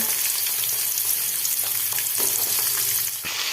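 A handful of small shallots hits hot oil in a pan for varagu rice upma, crackling in a dense, steady sizzle with stirring scrapes, close and loud, with no voice.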